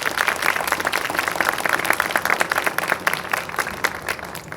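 Students from Holy Cross High School receive warm, steady applause from a crowd at a citywide breast cancer awareness Pink Out event in Waterbury, with dense clapping holding at an even level throughout.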